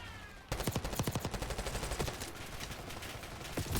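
Rapid automatic gunfire from the video game Call of Duty Black Ops 6, a loud, fast, evenly spaced burst of shots starting abruptly and running for about three seconds.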